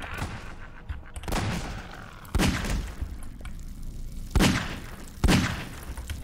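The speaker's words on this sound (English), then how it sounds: "Is he shooting at me even?" Gunfire in the video game Half-Life 2, a few loud separate shots cracking out at uneven intervals over a low rumbling game background.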